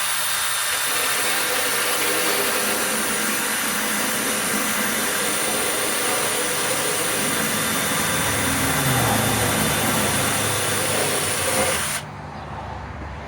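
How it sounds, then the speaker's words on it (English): Power drill spinning an old drum sander against body wheel-well edges, a steady close, loud grinding hiss that runs continuously before cutting off near the end. "Just use a power drill on one of these old drums."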